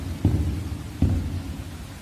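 Footsteps of a player character walking in the Roblox horror game The Mimic, two soft thuds about three-quarters of a second apart over a steady rain-like background hiss.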